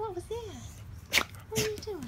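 A dog at home gives two short, sharp sneezes, close and fairly loud, between bits of people talking.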